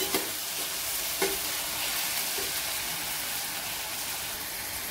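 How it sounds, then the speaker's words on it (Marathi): Chopped onions for egg bhurji sauté in a hot pan, giving a constant close sizzle with a couple of sharp spoon taps near the start. "आपण आता कांदा टाकून घ्यायचा, कांद्याला छान परतून घ्यायचं।"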